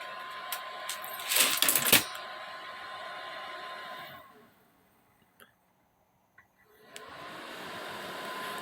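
A high-pitched whirring hiss of a PC case fan spinning at 3500 to 4000 rpm fills the opening seconds with some clicking, then cuts out to near silence before returning faintly.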